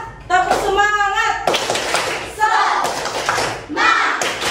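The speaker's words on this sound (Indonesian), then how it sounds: "Tepuk semangat." A classroom of children performs a rhythmic spirit clap chant, bursts of hand claps alternating with voiced chanting, close and loud with a teacher's voice between phrases.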